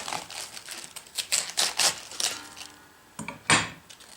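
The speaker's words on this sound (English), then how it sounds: "So I'm just going to cut that out." A knife cuts the core out of a cabbage for sauerkraut, giving a run of crisp, close crunching chops on a board, with a brief pause before a final louder cut.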